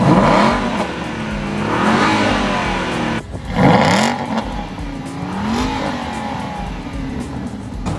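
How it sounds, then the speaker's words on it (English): Aston Martin V8 Vantage with its 4.7-litre V8 and Sportshift 2 gearbox, exhaust valves open in sport mode, revving hard in repeated rising and falling blips, loud and close throughout with no one speaking. "This is how the Aston Martin sounds with the valves open in sport mode."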